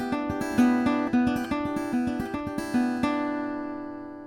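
Fingerpicked guitar rolls in country banjo style, a steady quick pattern of bright plucked notes ringing over one another, close and fairly quiet, ending on a sustained chord.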